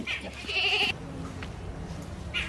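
A goat bleats loudly once at close range, a drawn-out nasal call, followed by quiet farmyard background and a short fainter sound near the end.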